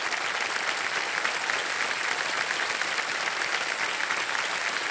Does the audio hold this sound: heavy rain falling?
no